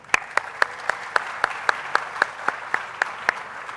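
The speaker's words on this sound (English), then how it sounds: "So a huge round of applause for each and every one of you." Rhythmic clapping at an IIT Kharagpur undergraduate induction programme, with sharp, evenly spaced claps about every quarter second, as if from one or a few people nearby, over a steady background hum.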